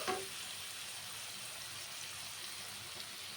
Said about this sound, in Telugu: ఉల్లిపాయ ఎర్రగా వచ్చేదాకా పచ్చివాసం పోయేంత పోయేంతవరకు వేపుకుంటే బాగుంటుంది